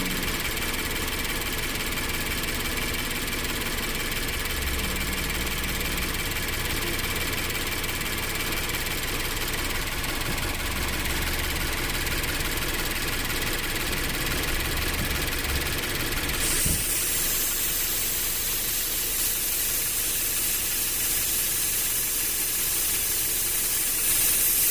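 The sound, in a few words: Scion FR-S 2.0 engine idle changing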